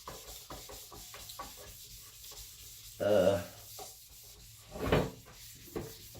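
Paint finish is sanded on a Suzuki Intruder motorcycle by hand, with faint rubbing strokes followed by two louder, brief scrubbing passes in a quiet room.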